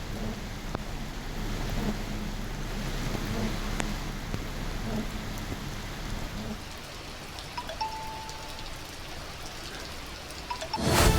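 Heavy monsoon rain pours down in Kodagu, Karnataka, a dense, loud, continuous hiss of drops on surfaces lasting about eleven seconds, with no speech.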